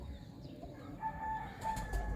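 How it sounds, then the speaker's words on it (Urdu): Teddy pigeons in a loft, giving soft scattered calls and faint wing flutters under a low steady background hum, fairly quiet and close, with no talking. "میرے پاس سلارے ٹیڈی کبوتر ہیں"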